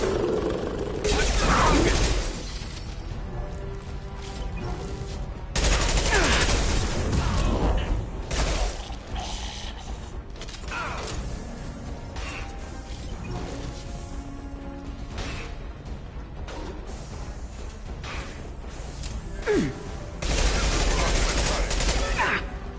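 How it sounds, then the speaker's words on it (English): Bursts of automatic gunfire and heavy impacts in a Mass Effect 2 firefight, loud volleys coming in waves over ongoing combat noise, with voices calling out during the fighting. "Taking heavy fire."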